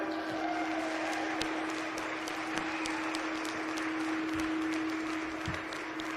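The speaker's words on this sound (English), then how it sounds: "Let's give a big round of applause to our superintendents" Applause from a crowd for the superintendents at a county fair hog show, a steady, even patter of clapping held at moderate distance, with a constant hum running beneath it.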